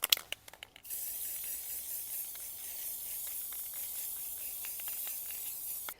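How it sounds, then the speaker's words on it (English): A few sharp rattling clicks, then a steady, continuous aerosol hiss from a spray can of satin clear lacquer on wooden coasters, fairly close, with faint clicks scattered through. "I have satin clear, which is a great lacquer. Give that spray can a shake."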